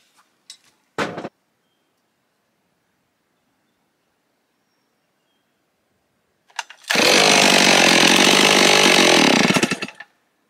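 A STIHL 038 Magnum chainsaw runs loud and close for about three seconds, a steady buzzing roar, preceded by a couple of short sharp knocks and a long stretch of silence.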